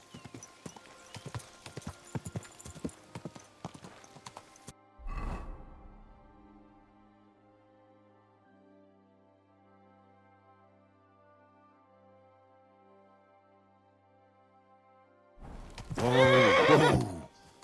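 A white horse in Kingdom Come: Deliverance 2 clops along with a quick run of hoofbeats, then after a quiet stretch lets out a loud, close whinny.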